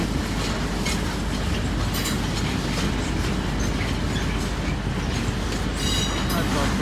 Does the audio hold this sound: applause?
no